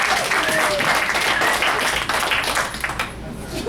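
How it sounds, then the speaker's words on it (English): An audience at a furry convention open mic breaks into loud applause, a thick wash of many hands clapping close by that holds steady before thinning slightly at the end, with some voices mixed in. "Guys, give me another round of applause."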